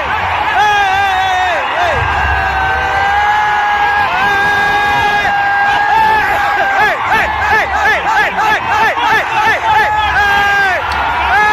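A packed cinema hall in Madurai erupts as fans of Vijay roar, whoop and yell at the Leo trailer, a loud, continuous wall of crowd noise with shrill whistles and cheering surging throughout.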